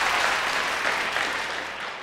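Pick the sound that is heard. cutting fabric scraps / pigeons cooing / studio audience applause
studio audience applause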